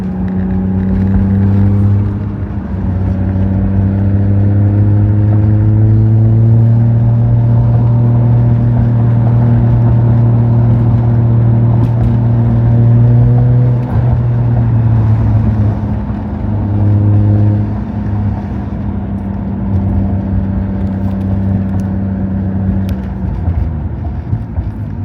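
A 1990s MK3 Toyota Supra on newly fitted coilovers is driven over small bumps and dips, giving a steady, close engine drone with layered harmonic tones that rise and fall slightly throughout, with no talking.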